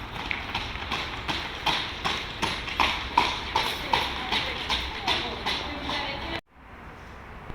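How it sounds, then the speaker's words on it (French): A mare trots on a hard surface during a veterinary soundness check, steady rhythmic clip-clop hoofbeats at an even pace, moderately close, ending abruptly as the sound cuts out. "Vous pouvez revenir au trot"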